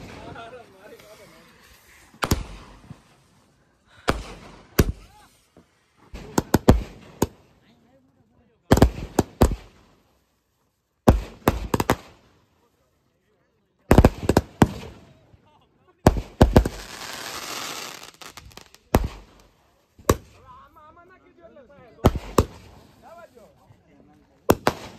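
Firecrackers burst on a hill during Diwali celebrations, sharp loud bangs arriving in irregular clusters and single pops with quiet gaps between, some crackling longer, while people talk in the background.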